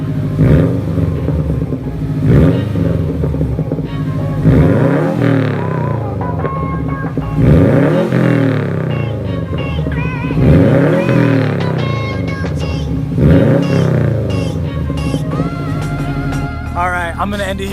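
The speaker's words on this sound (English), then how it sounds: "I'm dying to know what this thing sounds like revved up, so I'm gonna rev it for you guys." A Subaru WRX fitted with a Tomei titanium catback exhaust is revved about five times from idle, each loud rising blip falling back to a rumbling idle, close up.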